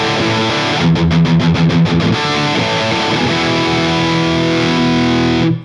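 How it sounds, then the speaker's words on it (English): An electric guitar with a bridge humbucker plays thick, distorted chords through a Line 6 Spider amp, including a quick burst of rhythmic muted strums, then sustains loudly before cutting off. "You get that lovely thick sound with the humbucker."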